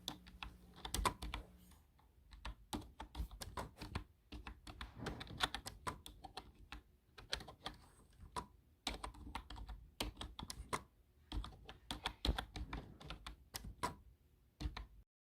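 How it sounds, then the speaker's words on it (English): Quick bursts of typing on a computer keyboard, close and fairly quiet, with rapid key clicks in uneven runs separated by short pauses, no voices. "Wait, let me type in something."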